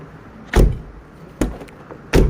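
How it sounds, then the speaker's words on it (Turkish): Fiat Tempra Tipo car door with a hard-to-open exterior handle being worked and opened, three distinct sharp clunks of the latch and door, close and fairly loud. "buradan şuna parmağımızla bastırdığımız zaman yani zorlanmadan kapı gayet güzel"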